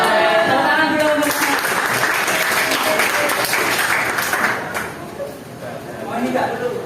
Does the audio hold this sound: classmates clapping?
yes